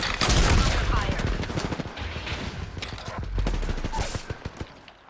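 Rapid, loud bursts of gunfire in a battle-royale-style video game, dense volleys with short pauses, while players talk over the shooting.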